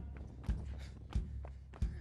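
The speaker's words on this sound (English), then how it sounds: "Come on, everybody, and stomp your feet real loud." Feet stomp hard on the floor in three heavy evenly spaced thuds about two-thirds of a second apart, close and loud over a low steady background, part of a Fourth of July parade celebration in Pittsfield.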